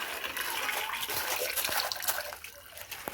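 Water pouring and splashing into a newly made fish pond, a continuous close rushing gush with some trickling, steady and fairly loud.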